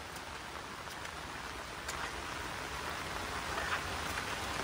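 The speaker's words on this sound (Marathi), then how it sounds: "भरपूर पाऊस लागलेला आहे." Heavy monsoon rain falling on a hillside, a faint but steady hiss of downpour with occasional louder drops, continuous and without voices.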